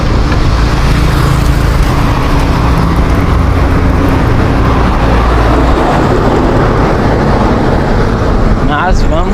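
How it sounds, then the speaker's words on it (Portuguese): Car traffic moving along a city road, heard from a bicycle as a steady, loud broadband rumble that fills the whole stretch, with passing vehicles blending together and no clear gaps. "Tem movimento de carro hoje, certo?"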